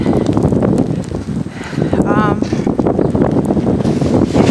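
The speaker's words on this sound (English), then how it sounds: "it's so windy out here" Strong wind buffets the microphone in a New York City snowstorm, a constant rough roar that stays loud throughout the short stretch.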